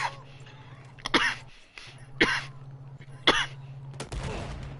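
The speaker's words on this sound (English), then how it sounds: "You ain't no god coughing like that" Three sharp, raspy coughs come at roughly one-second intervals over a steady low hum, followed by a breathy throat sound, all in the middle of Battlefield 4 gameplay.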